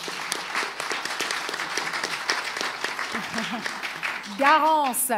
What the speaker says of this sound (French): On peut applaudir le sergent Gala pour ce partage.